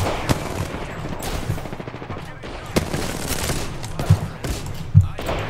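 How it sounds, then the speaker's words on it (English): Shotgun fire in the Apex Legends battle royale shooter rings out as several sharp blasts spaced through a busy in-game mix, with scattered loud hits over a steady background of game noise. "Again with the fucking shotguns, man."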